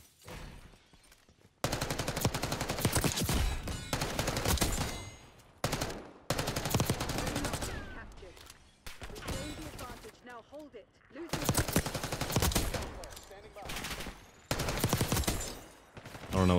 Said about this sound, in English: This SMG is actually insane how steady it is.